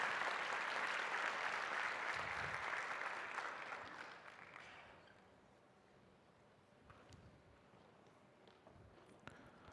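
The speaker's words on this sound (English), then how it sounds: "Let's clap our hands for them for the good work." Audience applause for conference presenters at a research conference, a steady clatter of many hands for about five seconds that then fades to quiet room noise with a few scattered sounds.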